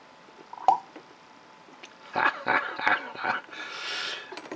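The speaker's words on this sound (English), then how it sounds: "I'm sure you could hear that sort of bubbling noise followed by a popping noise." An Onoto fountain pen dipped into ink gives a short burst of soft bubbling followed by a few small pops, close and fairly quiet, with a brief sharp tick near the start.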